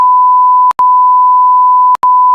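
A loud, steady censor beep tone runs through the whole stretch, broken twice by brief gaps so it sounds like three long bleeps in a row, with nothing else audible.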